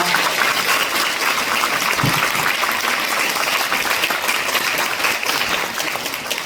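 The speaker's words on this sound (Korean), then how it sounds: "우리 서로의 각인을 담아서 다시 한번 박수하면 좋겠습니다." An audience at an Itaewon disaster memorial night in Myeongdong Cathedral's Coste Hall claps steadily and fairly loudly, a dense, even wash of applause that holds throughout without voices on top.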